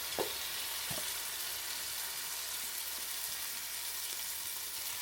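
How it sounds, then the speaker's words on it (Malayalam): Gravy sizzles in a hot frying pan with chicken, a steady close hiss that carries on throughout, broken by a few soft clinks of a spoon against the pan. "സെയിം പാനിലാണ് കേട്ടോ ഇതും ഫ്രൈ ചെയ്യുന്നത്"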